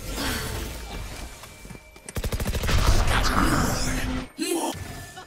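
Gunfire in a shooting video game: a rapid automatic burst of shots with sharp, evenly spaced cracks, then further loud firing and a brief break before more shots, all over a busy game background.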